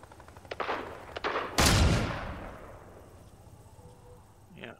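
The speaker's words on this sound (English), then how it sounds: "But I do hear gunshots." Gunfire in the Fortnite video game: a few quick pops, then a loud, sharp blast that rings off into a long fading tail, with a brief faint sound near the end.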